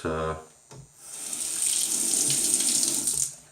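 Tap water runs steadily into a sink while a razor is rinsed after shaving with a Wilkinson Sword Classic razor and Nivea body shaving stick, a close continuous splash following a brief hum and clatter at the start.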